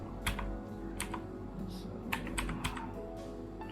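Soft clicking from a computer mouse while photos are rated on a computer, a scattered run of light, quick clicks, some paired, over a steady low hum in a quiet room.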